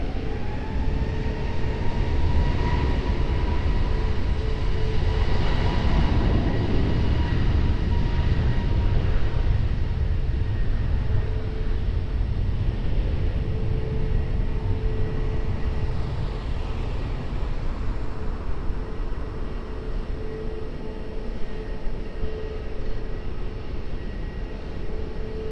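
An airliner taking off from runway 20 at Lisbon Airport, a broad steady jet roar that holds loud and constant for the whole stretch with a faint high whine drifting through it, and no voices.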